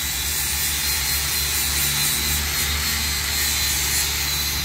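Rubber being ground smooth on a tire to strip its raised relief, a loud continuous whining grinder roar that holds steady throughout.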